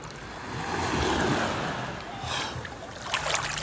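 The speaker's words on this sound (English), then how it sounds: "Beach is so nice today." Surf rolls onto a beach in a steady, broad wash of breaking waves heard up close, with a few brief rushes near the end and no talking.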